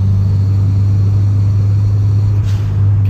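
Toyota MR2 engine rumbling steadily while driving in an enclosed space, a loud continuous low drone with no talking.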